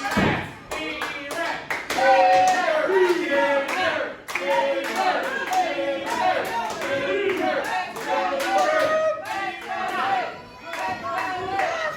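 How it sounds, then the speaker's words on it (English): A pro wrestling crowd claps and cheers steadily through an indoor show, dense rapid hand claps mixed with shouts and murmuring, loud and continuous with a few brief dips. "Fans cheering for Luke Chambers here."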